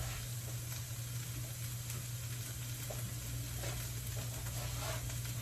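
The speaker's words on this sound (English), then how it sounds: "my onions are getting nice and translucent now" Onions sizzle in a hot pan with a steady, close frying hiss that runs evenly throughout, over a low background hum and faint occasional clinks.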